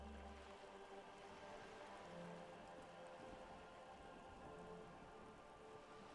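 Steady rain falls in the video game Disco Elysium, a dense, even hiss of drops on surfaces that holds at one level throughout, with a low rumble underneath and no voices.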